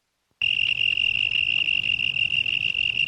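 A crickets chirping sound effect starts abruptly after a brief silence, then runs as a loud, steady, high-pitched trill without pause.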